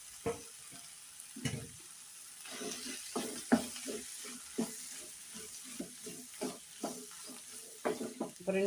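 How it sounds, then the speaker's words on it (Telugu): A spoon scrapes and stirs a potato and pea filling in a frying pan, soft sizzling under a series of irregular clacks and scrapes close up, with no voices. "ఇది మొత్తం కలిసేలాగా పచ్చివాసన పోయేలాగా ఇది మొత్తం కలిసేలాగా కలుపుకోవాలండి"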